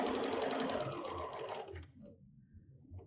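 A sewing machine stitches through quilt fabric with a quick, even rattle up close. The run lasts under two seconds and then stops, leaving only quiet room noise.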